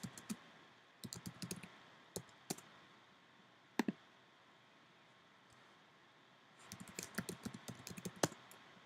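Computer keyboard typing of French verb answers: bursts of quick, close key clicks at the start, scattered single taps in the middle, then a longer run of typing at the end, in a quiet room with no talking.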